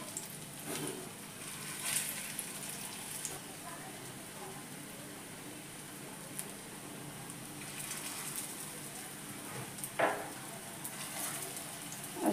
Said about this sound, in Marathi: आपण आता पॅटीस फ्राय करून घेऊया।